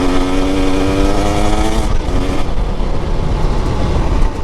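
A 2025 Husqvarna TE 300 Heritage edition dirt bike engine drones loud and close, a buzzy two-stroke tone holding steady then dropping into rough, broadband rumble as the revs fall away.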